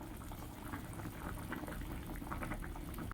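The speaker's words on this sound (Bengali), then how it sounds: "ঝোলটা ফুটে এসেছে" A pot of fish curry broth with thankuni leaves bubbles at a steady boil, a close, continuous burble of popping bubbles with no talking over it.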